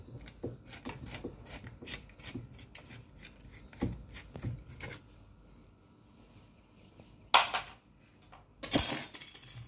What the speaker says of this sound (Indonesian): kita lepas bautnya.